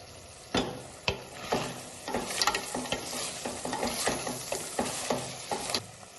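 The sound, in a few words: stirring crab curry in a pan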